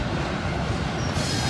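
A train hauled by two locomotives passes close by, filling the moment with a loud, continuous rumble of wheels and cars rolling on the rails.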